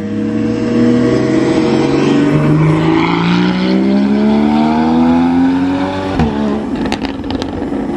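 A Porsche Cayman S, heard from outside, roars as it accelerates hard, its engine pitch climbing steadily through the gears before a sharp shift near the end.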